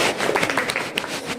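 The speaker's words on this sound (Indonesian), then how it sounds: "Kita kasih tepuk tangan" Short burst of classroom applause for a student group after their presentation, a dense wash of overlapping hand claps at steady moderate loudness with no voice on top.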